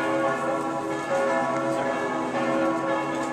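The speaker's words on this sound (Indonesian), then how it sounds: "lonceng gereja juga dipakai dan dibunyikan di dalam gereja" A church bell rings with a rich, sustained metallic tone, its overtones humming and swelling steadily and loudly.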